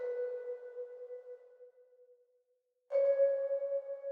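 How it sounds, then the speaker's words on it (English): A synth bell one-shot in FL Studio sounds two soft sustained tonal notes, the first fading out into a brief silence before the second enters clearly, gentle and solo. "Next, we're actually taking a bell from my one-shot kit, and once again, we're just adding in some slight notes in here."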